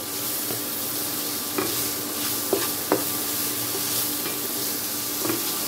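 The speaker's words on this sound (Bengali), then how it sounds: "তাই সবজিগুলোকে আমি 1-2 সেকেন্ড করে করেই ভেজে নিচ্ছি" Vegetables stir-fry with salt for spicy egg pasta, making a steady close hiss and sizzle with several light spatula taps and scrapes against the pan.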